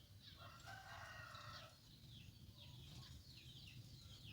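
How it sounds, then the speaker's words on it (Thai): A rooster crows at a moderate distance over a steady low rumble of outdoor background noise, with a long call followed by fainter crowing from other birds; no one speaks. "ไก่เคี่ยงอยู่นี่ครับ"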